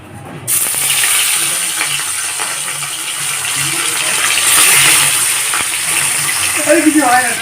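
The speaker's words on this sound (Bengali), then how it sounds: "কড়াইতে দিয়ে দিয়েছি সর্ষের তেল মাছগুলোকে ভেজে নেব" Pieces of rohu fish fry in mustard oil in a kadai, giving a loud, steady sizzle with scattered crackles that lasts the whole time.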